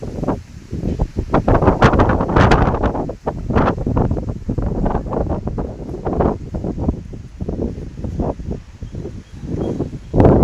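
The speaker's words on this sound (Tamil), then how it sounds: "அந்த அளவுக்கு வந்து காற்று வந்து புயல் மாதிரி வீசிச்சு" Strong stormy wind gusts hard against the microphone outdoors under a darkening sky before rain, a loud continuous roar with rising and falling blasts and rustling throughout.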